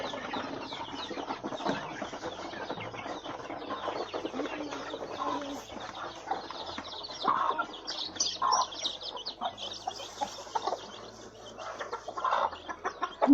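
A flock of chickens clucks busily at feeding time, a dense, continuous chorus of overlapping clucks and calls close by, with brief bursts rising over the steady din.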